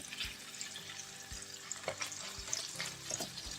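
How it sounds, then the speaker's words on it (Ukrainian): Pepper rings dry-frying in a pan without oil produce a soft, steady crackle, punctuated by several low thumps and scraping stirs at irregular intervals, with no voices. "ось так ми з вами будемо зараз обжарювати"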